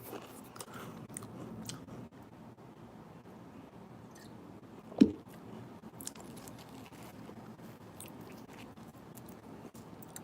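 Someone chews pork egg rolls close to the mic, with soft, quiet mouth sounds and faint crunches throughout and one sharper bite near the middle.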